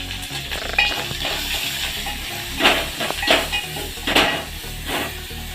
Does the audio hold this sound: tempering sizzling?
yes